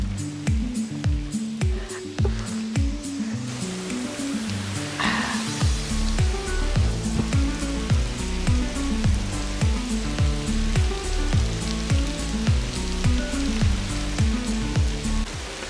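Artificial rain falls indoors in a rain room in the UAE, a dense, constant patter of drops hitting the floor, mixed with a strong rhythmic music beat throughout.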